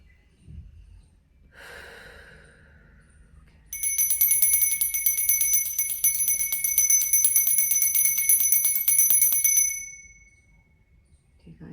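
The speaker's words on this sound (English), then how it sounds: "So I'll ring the bell." A small bell rings steadily and loudly for about six seconds during a quiet tarot reading setting, bright sustained tones with a rapid repeated strike, then fades to near silence.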